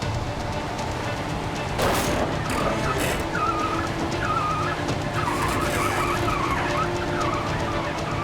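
A wrecked tractor truck being dragged forward on a highway by a heavy rescue wrecker, with continuous mechanical grinding and scraping, a loud burst near two seconds, and faint whining squeals over steady engine rumble.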